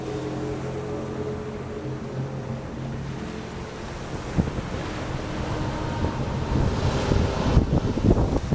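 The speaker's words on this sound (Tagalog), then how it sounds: "Ang taas ng alon, lagpas tao." Ocean waves over head height surge and crash with a low rumble, building louder toward the end amid gusty wind.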